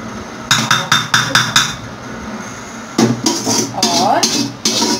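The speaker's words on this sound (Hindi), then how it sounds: "बर्तन वॉश करने हैं" Dishes, pots and pans are washed in a home kitchen, with a quick series of loud metallic clanks and knocks in two bursts, close by and with no talking.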